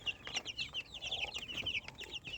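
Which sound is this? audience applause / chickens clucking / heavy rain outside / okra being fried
chickens clucking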